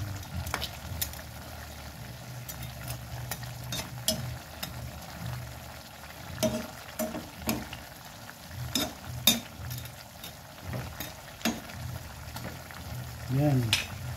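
Fried fish is stirred into a pan of sautéing chayote, giving a soft sizzle and fry with repeated scraping and clinks of a utensil against the pan. The cooking noise is fairly quiet and uneven.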